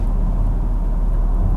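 A Jaguar X-Type car on the move, heard from inside the cabin as a loud, steady low engine and road rumble with no pauses or voices.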